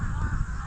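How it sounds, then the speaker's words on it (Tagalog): Crows cawing outdoors near a vegetable garden: a raspy, harsh caw that fills the short stretch, fairly close and moderately loud with a low background rumble and no speech. "Kumapala naman ang uwak."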